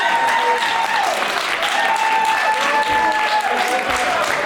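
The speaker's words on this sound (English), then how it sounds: "Arash enjoying the applause of the crowd" A wrestling show crowd applauds and cheers in an arena, a broad continuous roar of clapping with whistles and tonal noise on top, loud and sustained throughout.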